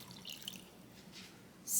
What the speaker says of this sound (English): I'm gonna water some of the plants here.